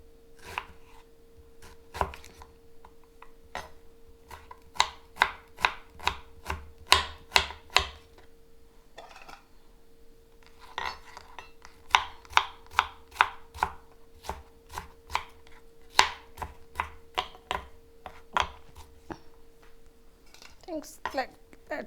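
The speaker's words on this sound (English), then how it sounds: "Cut your onion very thin." A knife slicing an onion very thin on a cutting board for an egg sandwich, sharp rhythmic chopping taps in quick bursts with short pauses between runs, close and clear.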